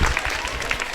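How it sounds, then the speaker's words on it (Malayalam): A school crowd claps for a prize-draw winner at a goat-village scheme event, a short burst of steady applause, fairly close and moderately loud. "റെഡി നല്ലൊരു കൈയടി കൊടുക്കേ ആ"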